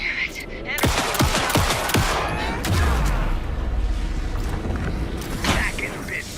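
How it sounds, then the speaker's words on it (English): Rapid bursts of gunfire from the video game Alan Wake 2, volleys of sharp cracks clustered early and again near the end over a loud, continuous combat din with a low rumble, while voices shout over the action. "Anderson, pin him down with a gunfire for me to get the light on him."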